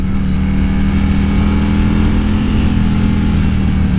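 A 2020 Harley-Davidson CVO Road Glide runs under way, its engine giving a steady, loud, low rumble with wind noise and no break for the whole stretch.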